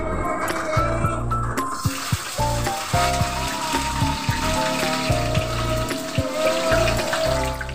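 Fries dropped into hot cooking oil in a pan, giving a loud bubbling sizzle. Sharp crackles and pops come throughout, and the frying swells after a quieter start.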